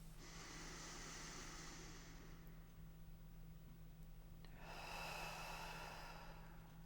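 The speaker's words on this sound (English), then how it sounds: "let's take a nice deep breath" A slow, deep breath taken close to the microphone, a long soft airy inhale followed after a pause by a fuller exhale, quiet and with no voice over it.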